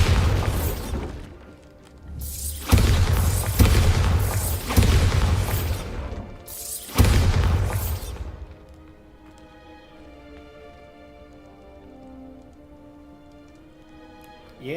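Bombarda explosion spell in the Hogwarts Legacy video game, heard as several loud booming blasts with shattering crashes in quick succession over the first eight seconds, then fading into a quiet, low ambient hum.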